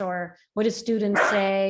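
A dog barks a few times close by, its sharp yips overlapping a person talking.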